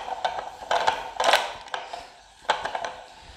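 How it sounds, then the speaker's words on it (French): Clicking, ratcheting turns as the base of an Active Base balance board is unscrewed, a few short bursts of mechanical clicks spaced irregularly over a few seconds, close and moderately quiet. "dans l'Active Base, vous pouvez dévisser également le socle"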